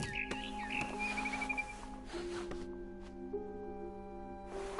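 In What Remains of Edith Finch, a barn swallow chirps in a quick run of high, bright tweets near the start, then falls away beneath sustained tonal music and a few faint clicks.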